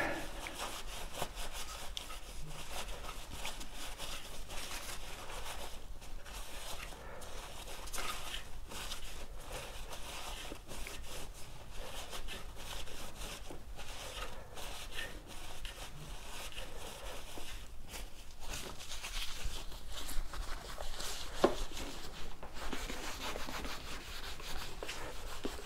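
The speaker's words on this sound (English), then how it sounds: "Wiping down the rim now." Quiet, steady rubbing and wiping of a cloth on an electric unicycle rim, a continuous soft scratchy friction with repeated strokes and no talking.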